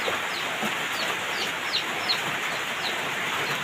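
Pet chickens cluck in a steady run of short calls against a constant hiss, likely rain, in a dim indoor space.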